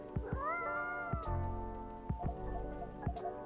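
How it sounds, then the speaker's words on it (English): A cat in the video game Coffee Talk gives several clear meows, one long rising call followed by shorter ones, over soft dripping, rain-like sounds and gentle background music. "Do you have a new pet cat then?"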